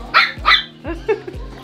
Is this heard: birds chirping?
no